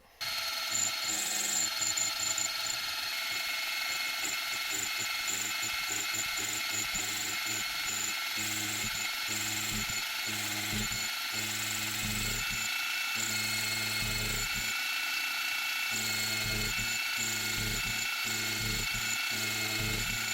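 A small high-speed rotary tool grinds a pocket for a carbide insert into a steel tool blank, a continuous whining buzz with a high tone that keeps dipping and resuming as the cutter bites in, close and steady.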